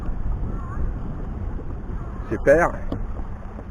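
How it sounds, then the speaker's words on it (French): Boat engine running during a deep-sea fishing outing off Alcudia, Majorca, a low steady rumble with wind buffeting the microphone, while a person speaks briefly over it. "Tu peux baisser un peu le moteur peut-être"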